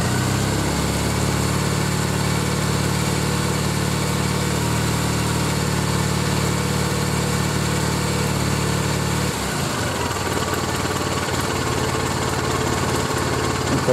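A Triumph Bonneville motorcycle engine running during a diode test, a loud steady drone that shifts partway through to a rougher, changed running note and holds to the end.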